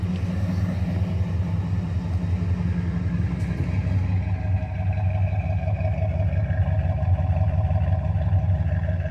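A 1974 Dodge Dart engine running after five years of sitting, a steady low rumbling idle with mild revs and no pause throughout.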